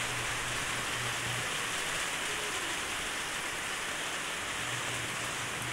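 Heavy typhoon rain in Cavite pours down as a dense, steady hiss of drops on surfaces, continuous and loud with no break.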